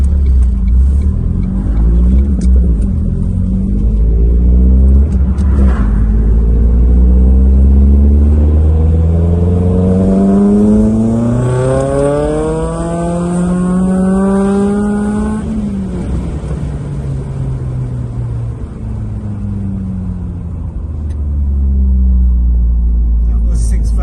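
A Ford Focus RS Mk1 engine revs up on a test drive, rising and falling in pitch and climbing toward about 6,500 RPM, loud and close, with a voice talking over it.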